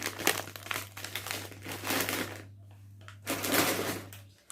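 Plastic bag of toffee candy being crinkled and handled up close, with bursts of crackling rustle separated by brief pauses over a steady low hum.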